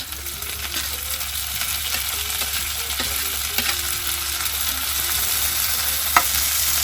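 Chopped tomatoes fry with browned onions for chicken do pyaza, a steady moderate sizzle under occasional scrapes and knocks of a stirring spoon, rising slightly toward the end, with no talking.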